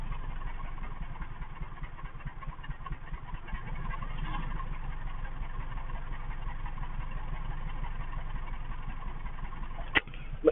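A car engine idles steadily on its own, a low continuous rumble holding even for about ten seconds, with a brief sharp knock near the end.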